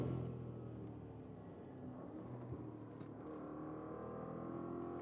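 A 2025 Audi RSQ8 Performance engine rumbles through corners, a low steady drone with mild swells in revs, heard from inside the car at moderate, fairly constant loudness with no talking.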